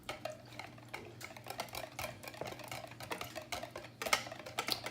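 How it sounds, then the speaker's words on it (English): A whisk beats vegan pumpkin muffin batter liquid in a bowl, making quiet, rhythmic ticking strokes close by. "I'm just going to whisk that together."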